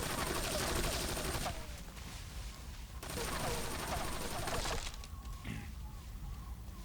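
Enemy gunfire aimed at the player in the Metal Gear Solid 3 video game, a dense, continuous rattle of rapid shots that swells and eases across the stretch, fairly loud, with no talking over it.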